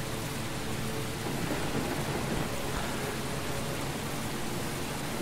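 Video game audio from Heavy Rain: steady heavy rain hisses continuously with a low rumble of thunder rolling underneath, no voices present.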